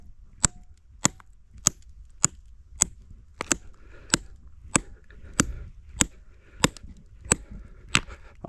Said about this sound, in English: A few hits on each one to set them.